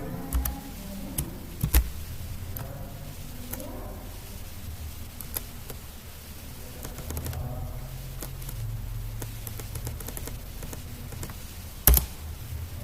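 Typing on a computer keyboard while entering comparison and logical operator code, a steady run of soft, close key clicks with a few louder isolated taps, heard alone without talk.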